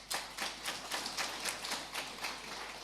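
Sparse, slow claps from a small audience at a regional state-of-the-region address, irregular individual hand claps repeating at a moderate pace, fairly faint and without voices.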